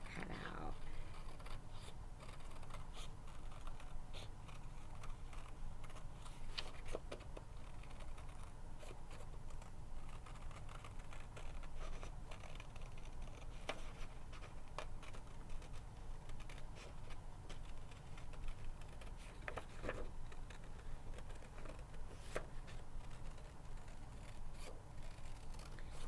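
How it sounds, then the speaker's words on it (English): Scissors cut out a paper heart for a Valentine's Day craft, giving a steady run of faint snips and paper rustles over a low background hum. "I'm going to cut that out, and it will be much easier to see on the printed side after I get the heart cut out."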